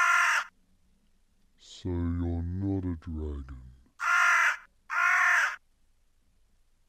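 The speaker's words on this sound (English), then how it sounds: "Is that a crow?" A crow in the video game Life of Carcass gives two loud, harsh caws near the end, alone, after a person speaks over a low background.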